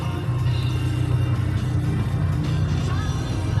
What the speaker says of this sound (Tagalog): Grabe talaga traffic. Wala nang pagbabago.